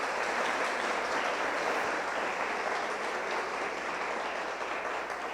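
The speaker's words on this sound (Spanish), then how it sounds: "Démosle un aplauso a esta niña preciosa" A church congregation at a Sunday service applauds a young girl debuting as the new drummer, producing steady, even applause that sounds moderately distant and fills the whole stretch without talk.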